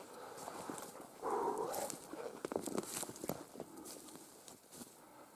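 Hunting dog barking in dense forest taiga while chasing a hazel grouse; a few distant barks with rustling footsteps nearby, faint overall.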